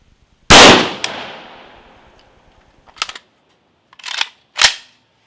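A rifle firing 55-grain hollow-point Wolf ammunition into a gel block gives one sharp, loud report that rings out and decays. Several shorter, quieter clacks and thumps follow, with no talking.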